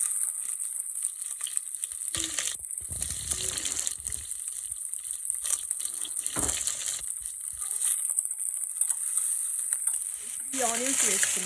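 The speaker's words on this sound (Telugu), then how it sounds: "ఆనియన్స్ వేసుకొని ఫ్రై చేసుకోవాలి." Onions frying in a pan with curry leaves for an onion potato poori curry, a steady loud sizzle running throughout with stirring noises, with brief faint speech near the end.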